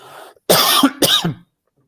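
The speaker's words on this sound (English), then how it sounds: "That's a timely cough" Two sharp, loud coughs close to the microphone, one after the other, followed by silence.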